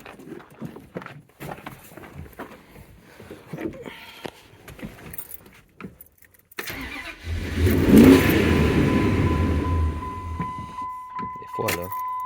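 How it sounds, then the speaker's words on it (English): A 2005 Dodge Ram pickup with a misfiring third cylinder cranks over on the starter for several seconds, a steady mid-pitched churning drone close by, following earlier scattered handling noises and talk. "let's get this cranking and let's see what happens"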